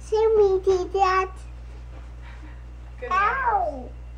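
A house cat meows several times close by, with short wavering cries followed by a longer meow, while a child and an adult talk softly between the calls.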